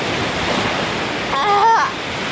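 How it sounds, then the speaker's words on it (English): Ocean waves break on a beach in Palawan, Philippines, a loud, continuous rushing wash of surf filling the whole stretch, with a brief voice partway through. "Look at the wave."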